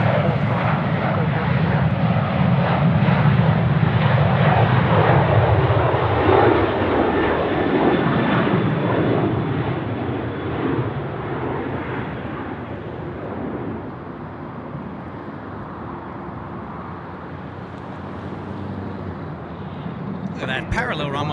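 Jet airliner engines at Sydney Airport roar loudly and close, the heavy rumble peaking early then easing into a steady, slightly fainter drone as the aircraft moves on, with a person talking over it.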